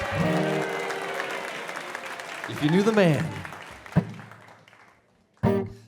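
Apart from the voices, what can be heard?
audience applause for the performer's dad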